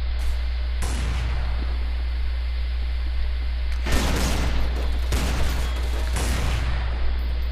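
Gunfire during a competitive video game match, several bursts of shots at irregular intervals over a steady low hum and hiss, fairly loud, with no talk.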